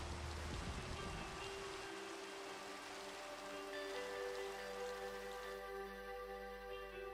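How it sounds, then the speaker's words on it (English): Rain during a thunderstorm in the Minecraft video game: a faint, continuous hiss of falling rain with soft patter, steady for the whole stretch, with no thunder standing out. "it wasn't just raining. It was actually a thunderstorm"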